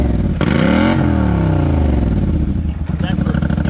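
A lifted Polaris Sportsman 850 ATV engine cranks, catches and settles into a rough, clattering idle close by, with people talking over it.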